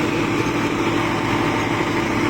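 A farm tractor fitted for a straw reaper runs steadily nearby, a constant droning engine hum with a low rumble underneath, unbroken and moderately loud throughout.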